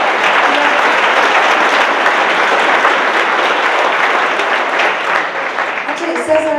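A large lecture-hall audience applauds steadily for Cesar Chavez, a dense, loud wash of clapping that holds for the whole stretch with no one speaking over it.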